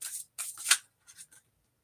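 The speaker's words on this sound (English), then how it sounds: "I'm gonna keep shuffling." A deck of playing cards being shuffled in a few quick, papery bursts, close and fairly quiet, separated by short pauses with no talking.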